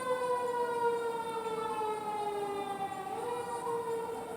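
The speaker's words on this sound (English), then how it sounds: "You hear the sirens?" A wailing emergency siren heard from outside, a steady rising and falling tone that stays at moderate distance and fairly faint, sounding alone without talk.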